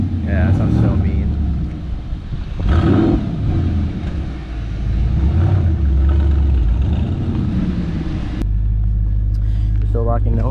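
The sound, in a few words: big-turbo N54 BMW 335i engine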